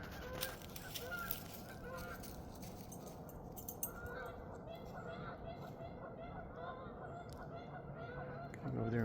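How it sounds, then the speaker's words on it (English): Geese honk repeatedly over a busy outdoor background during a walk, several birds calling at moderate distance with a steady wash of noise beneath. "Two geese down there yelling at me."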